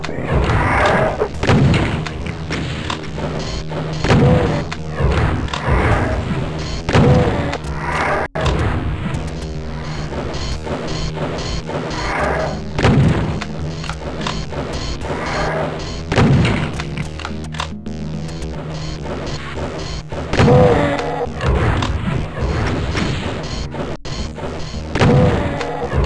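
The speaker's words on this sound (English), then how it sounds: "Give them a shotgun blast and run away." Shotgun blasts in the video game Doom 2, repeated heavy booming shots at irregular intervals over a continuous rumbling game background.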